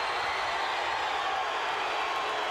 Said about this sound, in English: Some are cheering. Some are booing.